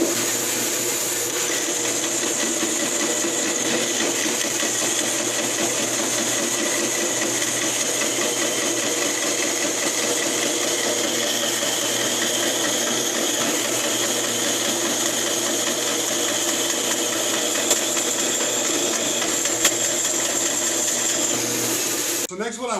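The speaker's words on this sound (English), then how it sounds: "Next I'm going to cut a piece of aluminum." A worn wood-cutting bandsaw blade slicing through 3/8 inch aluminum, giving a loud, steady high-pitched whine with a constant motor hum that runs unbroken for over twenty seconds before cutting off.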